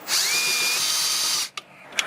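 A power drill whines loudly at high speed for over a second, drilling out a rivet nut insert, then cuts out, followed by two short bursts of drilling.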